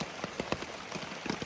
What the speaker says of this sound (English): It's 6 a.m. and it's pouring rain.